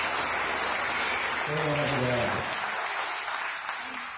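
Church congregation applauding during a worship service, a broad wash of clapping that fills the clip while someone speaks over it.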